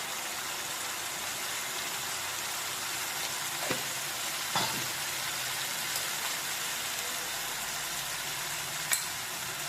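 Spices sizzling in hot oil while tempering potato curry, a steady loud crackling fry throughout with a few faint clinks of utensils.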